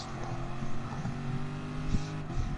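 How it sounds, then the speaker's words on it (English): Corvette engine idling and purring in the Gran Turismo Sport racing game, a steady low rumble with a few throttle blips and revs, close and fairly loud. "God, I love the way this car sounds, Tony."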